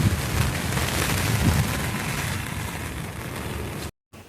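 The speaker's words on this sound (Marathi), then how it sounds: "तर बघा पाऊस चालू येतो" Rain falling steadily, a dense, even hiss of drops close by with no talking, fading slightly toward the end before it cuts off.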